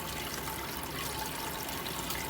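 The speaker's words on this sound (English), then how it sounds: "I'm glad you like the fountain." A small decorative fountain runs in a shower, a steady, close, fairly loud stream of splashing and trickling water with no voices.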